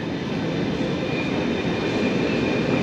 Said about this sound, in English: Ghost train passing by.